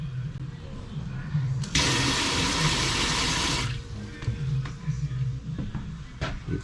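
Water gushes from a tap inside a self-built motorhome in a strong, steady rush lasting about two seconds, then stops, with people talking quietly nearby before and after.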